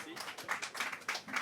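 Audience applause at a local investment awards ceremony in Bourges, a short burst of clapping from a hall crowd, fairly close and steady for just over a second.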